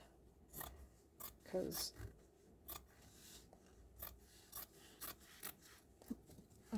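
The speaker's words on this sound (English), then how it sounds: "That's where I'm going to cut it. I have my material scissors" Fabric scissors snipping through scrap material at close range, several separate crisp cuts spaced irregularly over a few seconds, with brief talk in between.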